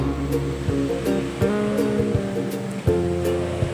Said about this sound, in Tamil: இதில் பருப்பு சேர்த்து ரெண்டு டைம்லேருந்து மூணு டைம் வரைக்கும் வாஷ் பண்ணி எடுத்துக்கிறேன்